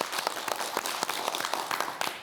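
Studio audience clapping on a Korean morning talk show as a neurology professor is welcomed, a dense, steady wash of applause sustained throughout at moderate distance.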